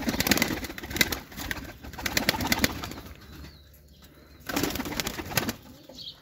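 Young Turkish Takla pigeons coo and flutter nearby in loud bursts, with wing flaps and calls coming and going, quieting briefly in the middle before picking up again, with no talk.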